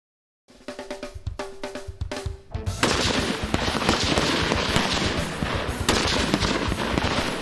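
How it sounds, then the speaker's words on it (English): M16 rifle gunfire at a boot camp marksmanship range: a quick string of sharp, separate shots, then a dense, continuous crackle of overlapping rounds, loud and close. "During rifle marksmanship training, soldiers are taught how to maintain and fire the M16 rifle."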